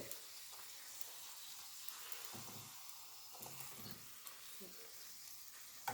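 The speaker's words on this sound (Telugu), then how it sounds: "ఇలా కాల్చుకోవాలి నూనె బాగా వేడి ఉండాలి పూరికి" Puri frying in very hot oil, a faint, steady sizzle with occasional bubbling bursts and small spatters, heard alone at low volume.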